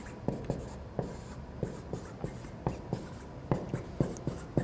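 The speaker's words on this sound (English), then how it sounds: "I'm just going to write what it would be." Pen or pencil writing out a math homework solution, quick scratchy strokes and taps in an irregular rhythm, close and clear against a faint background hiss.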